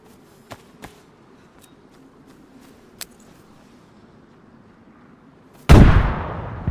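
A grenade going off in an Elden Ring session: a sudden loud broadband blast near the end, trailing into a decaying rumble after several faint clicks over quiet background.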